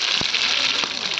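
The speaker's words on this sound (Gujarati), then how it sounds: "હવે જીરું નાખી દીધું છે" Cumin seeds dropped into hot oil for an okra curry, a steady frying hiss with a couple of soft thuds from the pan, heard at close range.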